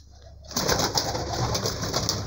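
Pigeons coo inside a pigeon loft where birds are nesting, a soft rolling cooing that starts abruptly after a brief hush and continues steadily up close.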